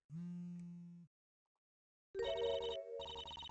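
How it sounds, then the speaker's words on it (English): A phone rings inside the Gyakuten courtroom video game: a steady electronic buzz tone, a short pause, then a louder, bright jingling ringtone that plays on alone to the end. "Oops. Sorry, that's my phone."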